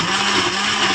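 A blender whizzes tomatoes and other ingredients for gazpacho, giving a loud, steady motor whir with a constant hum and no pauses.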